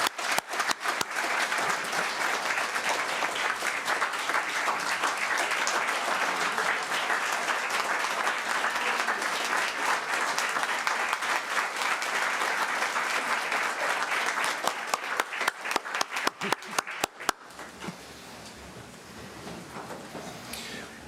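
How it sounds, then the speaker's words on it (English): Sustained applause from a large audience at a county budget address, steady and dense for most of the stretch, thinning to a few scattered claps near the end before quieting. "Please join me in a round of applause for Yvola Peters"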